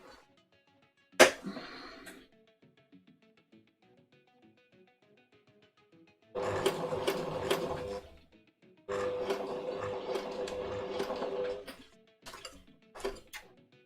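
Sewing machine stitching a pin-tuck shirt placket, two runs of steady close mechanical whirring a few seconds each, with isolated clicks and a sharp tap between them.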